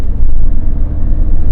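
A diesel VW Passat B6 car drives in third gear at about 80 km/h and 3000 RPM, a loud, steady low engine and road rumble heard from inside the cabin.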